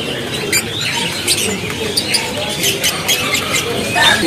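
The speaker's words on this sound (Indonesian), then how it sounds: "dan untuk pilihan ini lumayan ada nih untuk pilihan dari burung lovebird yang tersedia" Chirps and squawks from lovebirds at a busy bird market, a steady chorus of short calls over crowd murmur, with some distant voices in the background.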